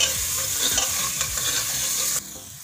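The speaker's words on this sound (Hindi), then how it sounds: "अब इसके साथ हम ये जो मैंगो है ये उसे बिल्कुल साबुत ही डाल देंगे और दो मिनट पकाएंगे।" Onions and whole green mangoes fry in a pan with a steady, loud sizzle and stirring scrapes, continuous and close, before the sizzle abruptly drops to a quieter hiss near the end.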